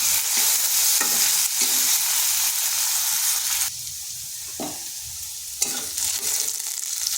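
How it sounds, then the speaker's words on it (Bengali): Potatoes seasoned with salt and turmeric fry in a pan with a steady, loud sizzle, broken by a few stirring scrapes and a brief quieter stretch midway. "সামান্য পরিমাণ লবণ আর সামান্য পরিমাণ হলুদ আলুটাকে বাদামি কালার করে ভেজে নেব"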